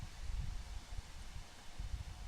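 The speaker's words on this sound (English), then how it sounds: "Oh, wow, that's a big gust." A big gust of wind outdoors at night, rushing and buffeting the microphone with a low rumble and broad hiss throughout, steady and fairly close.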